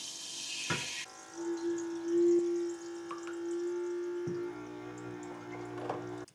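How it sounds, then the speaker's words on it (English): Dirty water is pumped through a portable shower into a clear container, giving a soft, steady trickle and splash with a faint pump hum, quiet and close, with no voices. "It's going to go straight into this clear container here."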